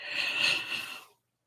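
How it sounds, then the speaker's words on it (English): A single breathy yawn, close and fairly loud, lasting about a second before cutting to silence. "excuse me, I should not be yawning"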